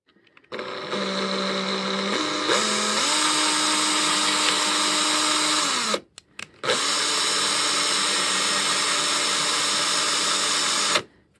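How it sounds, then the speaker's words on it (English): A battery drill turning a tap to clean out a hole whirs steadily, its pitch shifting as it works, pausing briefly mid-way before running on again with a grinding, buzzing tone. "let's do the cleanup with the tap and a battery power drill"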